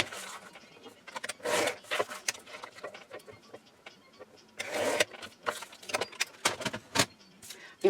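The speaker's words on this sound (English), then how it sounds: "So we're going to cut this 2-inch strips" Gingham paper is cut into 2-inch strips for a handmade card, with scattered close scraping and snipping bursts and soft rustles in a quiet room, with faint speech in places.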